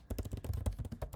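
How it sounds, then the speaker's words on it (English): Rapid, irregular clicking of keys on a computer keyboard as someone types questions, close and fairly quiet, with no talking. "I'll just start typing in some random questions here"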